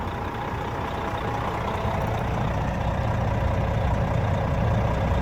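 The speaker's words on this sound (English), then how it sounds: "We're starting with the truck running" A 1999 Spartan Gladiator fire truck with a Detroit diesel engine idles, giving a steady, loud, low rumble that carries on evenly throughout with no talking.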